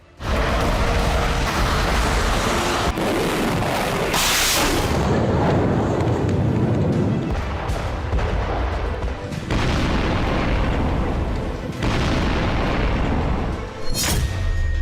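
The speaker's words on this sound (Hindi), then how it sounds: "मार्च 2022 हाइपरसोनिक हमला।" Booming blasts from a hypersonic missile strike on a weapons depot in Ukraine, March 2022, roll continuously with heavy low-end rumble and sharp bursts, loud and dense throughout the news footage.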